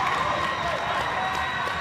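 A crowd at a high school boys' basketball game yells and cheers for a favorite player checking in for the Tigers, a dense, continuous wash of voices and clapping filling the gym.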